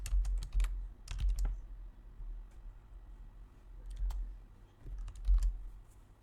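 A search filter is typed on a computer keyboard in short, quick bursts of clicky keystrokes separated by brief pauses, close and crisp against a quiet background hum.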